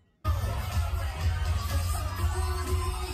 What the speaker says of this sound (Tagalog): Naririnig ko ang hiyawan.